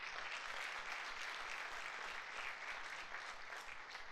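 Church congregation applauding together, dense continuous clapping that stays even and sustained from start to finish with no voices on top.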